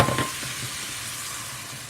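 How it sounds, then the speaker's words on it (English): Curry vegetables with chickpeas stirred in a pan, a brief scrape and clatter at the start followed by a soft, steady sizzle of frying. "Mix everything up"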